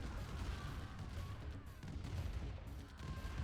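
Minigunner units firing in a real-time strategy battle, a continuous rattling, rumbling barrage with scattered crashes and impacts, loud and unbroken across the whole stretch.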